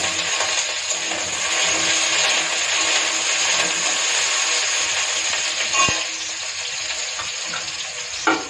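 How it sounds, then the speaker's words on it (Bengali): Pointed gourd and potato frying in a pan give off a continuous loud sizzle and hiss, close and steady throughout, broken by a couple of brief knocks from a utensil. "পটল আলুটা ভালো করে এখন লাল লাল করে একটু ভেজে নেবো।"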